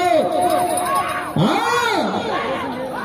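Loud festive crowd at a bull-racing competition in Anantapur district, with shouting voices and rising, falling whistle-like calls sweeping over a dense, continuous hubbub.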